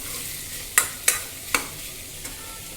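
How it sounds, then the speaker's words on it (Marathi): Carrots and tomatoes sautéing in hot oil in a pan for Maharashtrian masala bhat, with three sharp stirring scrapes and a fainter fourth over a low steady sizzle, close by and without talk. "टाकायचं आहे गाजर टमॅटो हे छान परतून घ्यायचं आहे तेलावर"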